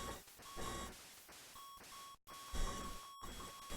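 Beeping from the NES game 1942 repeats in short, evenly spaced electronic tones over a busier layer of game sound, steady and fairly quiet throughout, with no voices.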